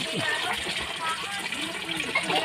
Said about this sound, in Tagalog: Mga kalingap po, gaawas ang tubig.